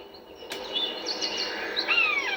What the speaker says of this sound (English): There's another bird close by.